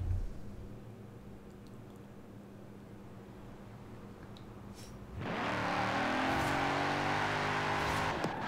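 Engine of a Mercedes AMG Hammer Coupe, a rear-wheel-drive car in the racing game Forza Horizon 4, idling quietly before roaring up loudly into a sustained, rising rev, with no talking.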